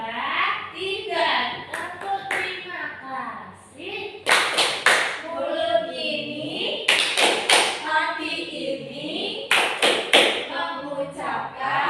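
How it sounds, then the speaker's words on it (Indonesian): A primary school class claps a patterned thank-you rhythm in bursts of sharp, loud hand claps, mixed with children chanting and a teacher speaking in a classroom. "ayo kita beri tepuk terima kasih yuk"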